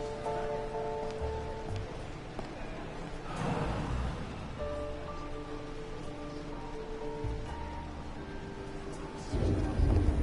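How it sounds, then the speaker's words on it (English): A thunderstorm rolls through a scene in the video game Blues and Bullets, with steady rain on surfaces, low thunder rumbles and a swell of louder wind and rain near the end, alongside a tonal music bed. "suddenly, the storm hits you"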